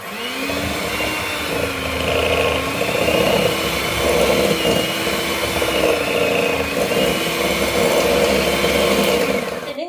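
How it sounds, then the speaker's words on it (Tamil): An electric hand mixer beats margarine and sugar for a dates cake, a loud steady motor whine with a wavering pitch that runs continuously for about ten seconds. "இப்போ முதல்ல மாஜரினையும் சீனியையும் நல்லா மிக்ஸ் பண்ணுவோம்."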